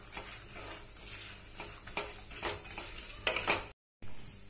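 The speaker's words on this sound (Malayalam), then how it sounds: "ഇത് നമുക്ക് ഗോൾഡൻ കളർ ആവുന്നത് വരെ നമുക്കിത് ഇളക്കിക്കൊണ്ടിരിക്കണം" Coconut pieces fry in a pan while being stirred toward golden brown. A soft, steady sizzle runs under scraping spoon strokes that come every half second or so, louder near the end, then cut off briefly.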